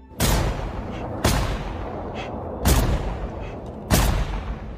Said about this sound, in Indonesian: langsung menembakkan beberapa tembakan ke arah tumpukan limbah